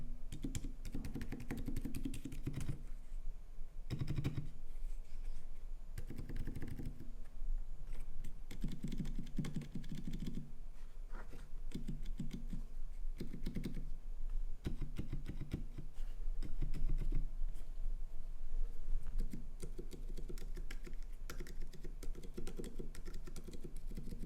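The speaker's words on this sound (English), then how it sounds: "Custom mechanical keyboard, and it is ultra silent." Steady, muted typing on an ultra-silent custom mechanical keyboard with an aluminium case and brass back piece, soft dampened keystrokes in a continuous patter, close by and fairly quiet.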